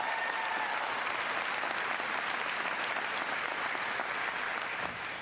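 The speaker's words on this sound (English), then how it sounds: "Give John a big round of applause." Sustained applause from a large audience at a political rally: dense, even clapping fills the whole stretch close and loud, tapering slightly at the very end, with no talk over it.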